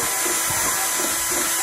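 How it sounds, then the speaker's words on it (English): A power drill whirs steadily at high speed while drilling a small hole in a Nissan for tail light wiring, a loud continuous grinding buzz with no voices. "So we gotta drill a small hole."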